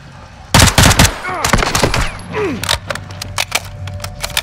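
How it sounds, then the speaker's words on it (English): Gunfire in a realism first-person shooter video game: loud, close bursts of rapid shots crack and echo in quick clusters, then thin out to scattered single reports, with a voice briefly heard among them. "Good shooting."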